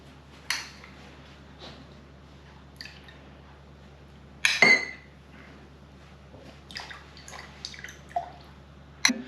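Liquid dripping from raw butter being pressed, heard as scattered faint drips and small clinks against glass or a dish, with a louder splash-like burst midway, in a quiet kitchen with no talk.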